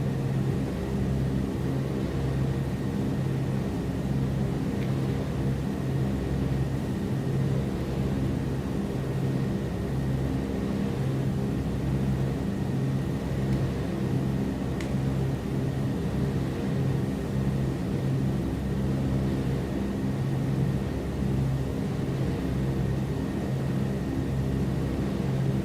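Douglas DC-3 twin propeller engines in Microsoft Flight Simulator 2020, a steady droning rumble with a pulsing, even beat that holds throughout, heard from the cockpit.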